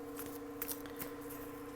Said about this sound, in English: Split the deck and give it a good shuffle.